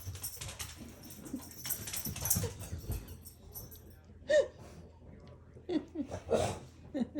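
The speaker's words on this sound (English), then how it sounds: "dog's going nuts" A dog whimpers and yips excitedly in short, irregular bursts near the end, with someone talking over a noisy background early on.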